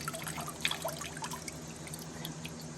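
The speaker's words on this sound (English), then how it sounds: "you want your water to run clean after you've rinsed it" Rinse water runs off soaked beet pulp into a bucket, a close, light trickle with scattered drips and splashes, no talking.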